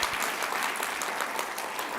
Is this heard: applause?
yes